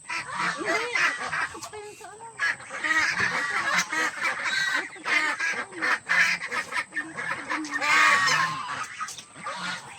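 A flock of seven-week-old Pekin ducks quacks and honks loudly and continuously, many birds calling over one another close by, with people talking in the background.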